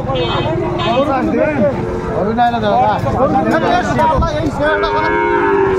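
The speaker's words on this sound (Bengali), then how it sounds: "শাহিওয়ালের ষাঁড় বাচ্চা আমরা দেখছিলাম এখানে।" Sahiwal bull calves at a Pabna livestock market moo and low repeatedly, close and loud, over a constant hubbub of people talking.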